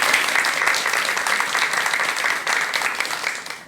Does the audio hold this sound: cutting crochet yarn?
no